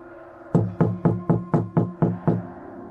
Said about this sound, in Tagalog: Kakatok ako sa pinto.